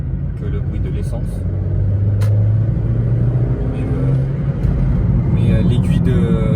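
A Ford Focus 2 sedan's engine runs on LPG as a steady, loud low rumble with faint accelerating swells, carrying on under someone talking throughout.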